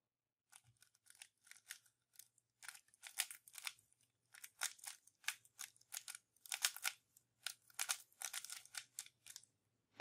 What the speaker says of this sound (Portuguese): Então, vou embaralhar o cubo.